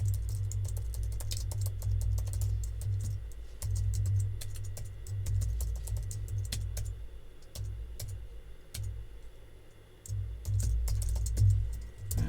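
HTML code is tapped out on a computer keyboard in quick, irregular bursts of crisp keystrokes, close and clear, with short pauses between runs.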